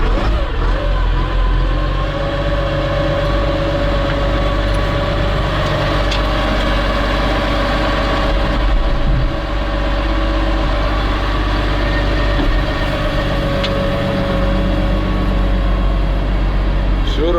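A heavy diesel engine of a Hanomag 44D loader running at a steady, loud idle with a deep rumble throughout, occasional clanks and shifts in tone.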